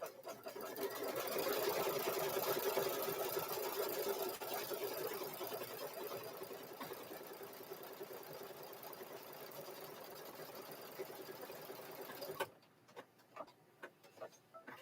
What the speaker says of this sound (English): it's going to stitch that lining down and the top down